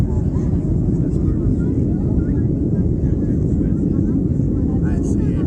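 Inside a small airplane climbing after takeoff on a July flight to Cuba, a loud, steady low engine drone fills the cabin throughout, with faint cabin noises and occasional voices mixed in.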